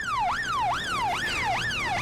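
An ambulance siren wails in repeated rising-and-falling sweeps, loud and close, about four cycles over two seconds with no voices.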